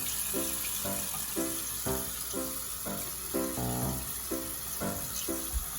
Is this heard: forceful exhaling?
no